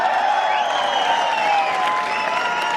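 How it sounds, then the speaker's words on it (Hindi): An audience applauding and clapping at a health talk on remedies for ailments, a dense continuous wash of claps at steady loudness, with whistle-like tones running over it. "इस बीमारी पे इतनी ताली बजाओगे तो तुम्हें हो जाएगी"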